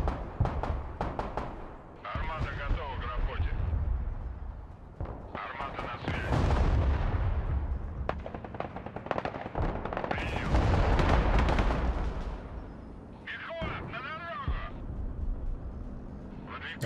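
Artillery and gunfire rumble in the Broken Arrow multiplayer war game, with repeated heavy booms and bursts of shots rolling through a continuous battle din.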